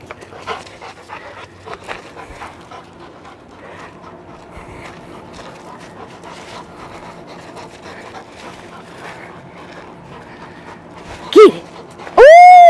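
A dog plays tug, panting rapidly and rhythmically up close at a moderate level, with soft rustles and light thuds. Near the end come a short whimpering yelp and a loud sustained squeal, probably from a squeaky toy.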